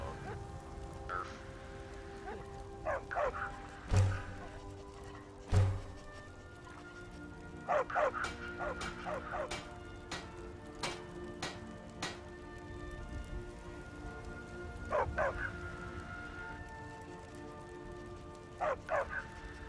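A dog in the video game Skyrim barks in a few short bursts spread across the stretch, mid-distance, over a steady rainy ambient bed with occasional sharp thumps.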